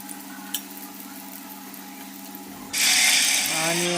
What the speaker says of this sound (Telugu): హీట్ చేసిన ఆయిల్లో కాకరకాయ ముక్కలను వేసుకుని ఫ్రై చేసుకోవాలి